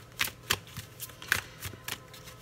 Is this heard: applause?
no